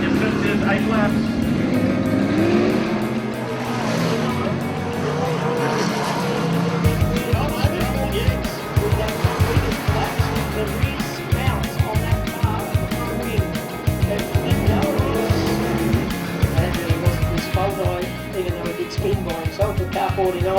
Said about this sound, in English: round 6 of the Coca-Cola Sprint Car Track Championship